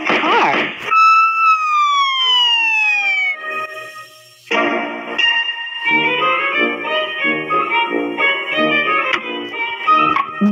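A police vehicle siren from a kids' cars blocks video game wails in a loud, clean electronic tone: a falling sweep, a short gap, then a steady warbling siren pattern running to the end.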